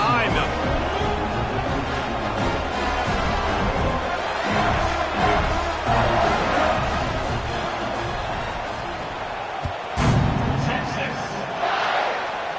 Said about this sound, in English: Set to kick it off, and this crowd now ready to get behind them.